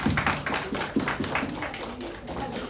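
Audience at a press conference with Rajeev Reddy, Gurmeet Choudhary and Debina Bonnerjee clapping in quick, uneven bursts, a close, brief round of applause.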